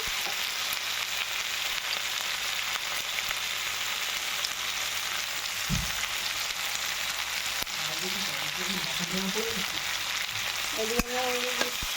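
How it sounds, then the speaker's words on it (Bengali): Tomatoes and green chillies frying in white oil with salt, making a continuous even sizzle for the whole stretch, with an occasional stirring knock and a faint voice briefly audible near the end. "ভাজাটা হোক ততক্ষণ"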